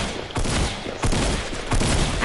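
Video game shotgun blasts fire three times in quick succession, loud and close, each a sharp broadband burst with a short tail, and no talk over them.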